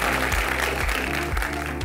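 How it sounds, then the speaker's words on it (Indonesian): An audience at a challenger selection event in Surabaya claps continuously, a dense even patter of many hands held at a steady level from start to finish. "Pertama-tama tepuk tangan lu buat kalian semua Challengers."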